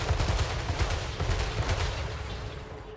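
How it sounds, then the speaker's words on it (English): Ogre cannon units fire in a Total Warhammer 3 battle. Rapid booming shots and blasts crowd together in a dense barrage, with heavy low thumps over a constant battle din. The barrage eases slightly toward the end. "let's see those ogres with cannons in action"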